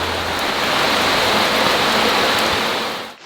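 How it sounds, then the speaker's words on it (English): Steady, dense rain pours down over a jungle, a loud continuous hiss of drops that holds evenly for a few seconds before cutting off abruptly at the end. "It is really magical when it rains, isn't it?"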